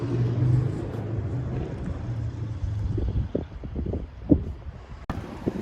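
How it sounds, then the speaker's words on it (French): Saturday road traffic in a town street with old towers and a former drawbridge, a low rumbling wash of passing cars with wind buffeting the microphone and a sharp knock near the end. "Il y a de la circulation, on est samedi, hein."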